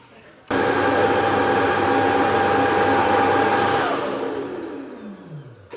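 An Ecovacs Deebot X11 docking station starts its emptying cycle with an abrupt, loud, steady motor whoosh of suction that runs for several seconds, then winds down with a falling whine.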